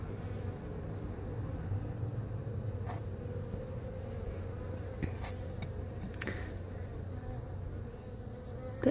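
Honey bees buzzing in a hive holding queen cells, a dense continuous drone close by, steady throughout with a few faint clicks and taps.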